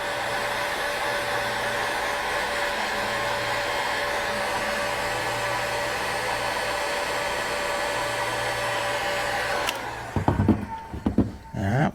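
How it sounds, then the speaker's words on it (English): A handheld heat gun blows steadily and loudly, close by, while heating a wire connection on a fish finder battery kit, then cuts off near the end, followed by a few handling knocks. "take your heat gun, again, start in the middle and work your way out"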